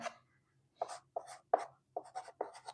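Chalk or marker strokes on a board during a physics lecture on the Bohr atomic model, a series of short scratchy taps and squeaks in quick bursts, close and clear with no talking.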